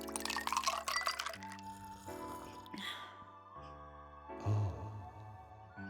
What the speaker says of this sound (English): so I threw some ice cubes in